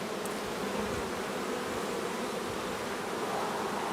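Carpathian honey bees buzz around hive frames, a dense, even, continuous hum at close range with no talking.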